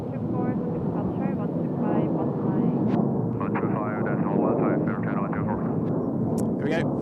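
An Air China airliner departs Seoul Incheon Airport with a broad, rumbling jet roar that holds steady, while people talk over it.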